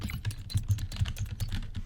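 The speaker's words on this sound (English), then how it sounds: "hear the keyboard clacking." Rapid keyboard clacking up close, a quick uneven stream of key presses with no voices.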